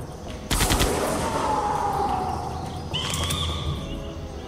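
Gunfire erupts in the Jurassic Park video game with a sudden loud broadband burst, then a ringing, decaying tail and a second flare of sharp noise near the end, with no talking.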